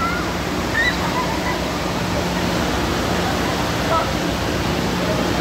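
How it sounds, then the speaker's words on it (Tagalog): Artificial waves churn in a wave pool, a continuous broad roar of rushing water heard up close, with voices talking faintly underneath. "Artificial wave lang yan eh."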